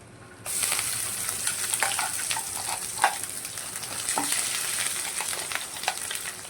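A hot tempering with curry leaves is tipped into ivy gourd chutney and stirred, setting off a sudden sizzle that continues steadily, crackling under light scraping from the spoon.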